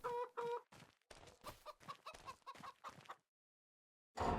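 Chickens in a pen in Farming Simulator 25 clucking in a quick run of short, fairly loud calls, then a pause before another burst, no talking.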